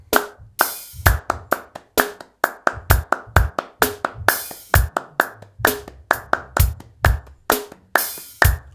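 Fast, evenly spaced hand claps at double time, a rapid run of sharp, close claps repeating for several seconds with no talking.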